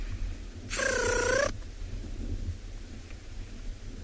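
A single drawn-out, wavering trumpet-like call, a human voice imitating a bird's trumpeting display call, lasting under a second, over a low steady background rumble.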